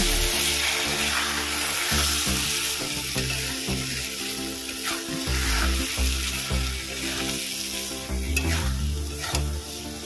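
Spice paste and lentils sizzle in a pan while being stirred, a steady close frying hiss broken by repeated scraping strokes of a spoon, with no talk.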